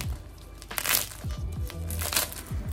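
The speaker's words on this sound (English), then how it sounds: "listen to that, a really nice crunchy crust" Close, crackly crunching of a bread crust being squeezed, in several crisp bursts with a faint low background rumble.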